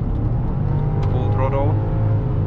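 BMW X5 E53 4.4i with a chip tune to 309 hp at full throttle and downshifting, a loud, steady engine drone heard from inside the cabin with a voice talking over it.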